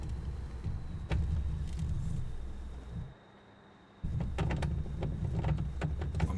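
Steering wheel force feedback rattles steadily during Spin Tires play, a low continuous buzzing drone that briefly cuts out midway before resuming at the same level.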